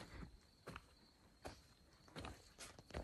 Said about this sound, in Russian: Мои шаги и пение птиц.